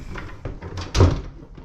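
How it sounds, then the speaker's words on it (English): A door in an abandoned Victorian house swings shut, with a brief, fairly loud thud near the middle of the clip against low creaks and room noise. "See, that door closed is fine."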